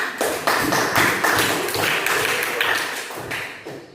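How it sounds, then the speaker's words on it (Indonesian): Students in an Indonesian-language classroom clap for a classmate after her answer, a loose patter of hand claps and taps lasting several seconds, fairly close and steady with no voices over it. "Beri tepuk tangan"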